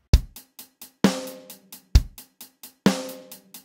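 A steady drum pattern in sixteenth notes plays alone: a fast even run of hi-hat ticks with alternating kick and snare hits, repeating twice.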